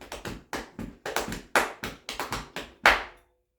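Hambone body percussion: a dozen or so sharp hand claps and slaps on the body in a quick syncopated rhythm, close and crisp, ending on one louder smack before silence.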